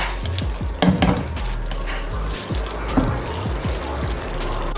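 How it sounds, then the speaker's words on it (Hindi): Cinnamon, black cardamom and star anise fry in oil in a pot, a soft sizzle broken by several clinks and scrapes of a stirring spoon against the metal. "अच्छी तरह इसे भून लेंगे ताकि ऑयल सेपरेट हो जाए।"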